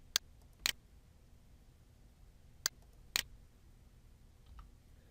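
Software options are selected with a computer mouse. Four crisp, isolated clicks sound close up, two in quick succession near the start and two more a few seconds later, over faint room hiss with no talk.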